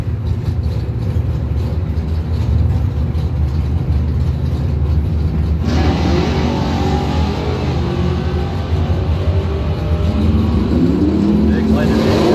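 A 1986 Cutlass and a 1967 Mustang drag racing at a strip, loud sustained engine roar that shifts and rises midway as the cars launch and pull away, with a voice over it.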